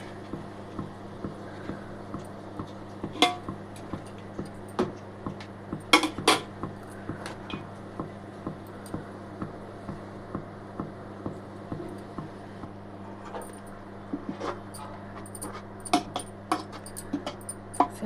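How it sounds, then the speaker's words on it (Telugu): Sweet semiya vermicelli is stirred in a pan, with soft, repeated scraping and light metallic taps over a constant low hum from a nearby stove, close by and with no one speaking. "సేమియాలు కొంచెం దగ్గర పడేదాకా కలుపుకుంటూ ఉండాలి."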